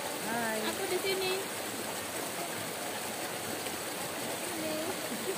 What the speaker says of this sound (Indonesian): Kita sekarang lagi di sungai.